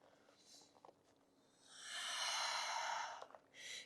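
Deep, slow breathing during a morning yoga flow in downward facing dog, a soft inhale followed by a long, airy exhale, close and quiet with no talking.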